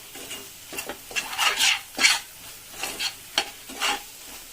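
Egg curry masala frying in oil in a home kitchen pan, stirred in repeated scraping strokes over a steady close sizzle, with light clinks of the spoon against the metal.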